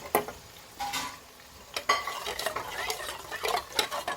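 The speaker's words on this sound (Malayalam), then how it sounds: "നമുക്കൊന്ന് ഇളക്കി കൊടുക്കാം" Banana slices frying in oil are stirred with a metal utensil, giving repeated scraping clinks against the pan over a steady close sizzle, with no voices.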